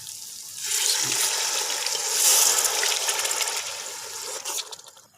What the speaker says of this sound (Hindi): अब हम इसके अंदर 1 गिलास पानी शामिल करेंगे